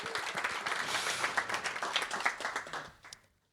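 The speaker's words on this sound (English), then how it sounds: "So we could also give a big applause to this group" Applause from an audience at an AWS user group meetup in Berlin, a dense patter of many hands that continues steadily, then thins and fades out near the end.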